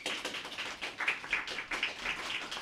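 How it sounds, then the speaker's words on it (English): A small audience at a round table discussion claps, with light scattered applause that stays fairly quiet and steady for a few seconds. "Please give them a round of applause."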